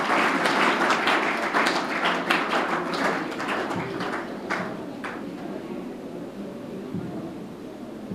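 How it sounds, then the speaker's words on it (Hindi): A school audience at a Delhi Public School event claps together in loud, sustained applause that begins full and gradually thins out. "जोरदार आप तालियों से अभिनंदन करें।"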